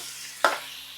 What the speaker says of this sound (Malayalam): അമ്മ ഇളക്കുന്നു.